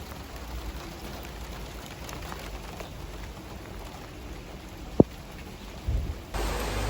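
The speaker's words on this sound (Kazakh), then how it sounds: "Жаңбыр құйып тұр, сонда да уақытымызды босқа кетірмейді." Rain pours over the streets of Budva, Montenegro, a soft, even hiss of falling water heard at a distance, with a single sharp knock partway through and a slightly louder wash near the end.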